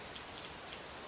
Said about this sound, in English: Outside, the rain begins again